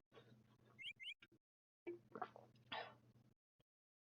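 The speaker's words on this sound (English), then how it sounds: "It's a bird." Bird chirps from the video game Stardew Valley, a few short bright tweets near the start, followed by faint game sounds and breathy noises, quiet overall.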